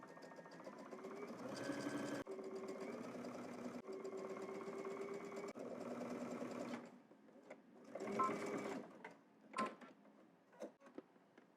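Sewing machine running steadily while stitching a garment seam with a narrow zigzag stitch, a continuous mechanical whir for several seconds before stopping, then a few short bursts and clicks follow.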